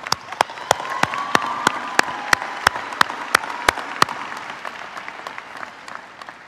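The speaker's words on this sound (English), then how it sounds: "Let's give a round of applause for Mr." A graduation crowd applauds Mr. Hauser, with a sustained wash of clapping and one sharp, rhythmic clap ringing out close and loud about every third of a second before it stops near the end while the applause goes on.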